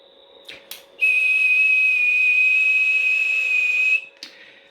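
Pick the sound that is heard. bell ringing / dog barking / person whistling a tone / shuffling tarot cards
person whistling a tone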